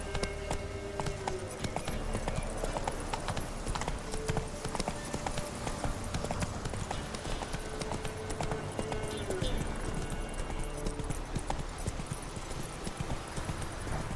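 Roach, the horse in The Witcher 3 video game, gallops with a fast, steady clip-clop of hooves that runs continuously over a busy background of game sound.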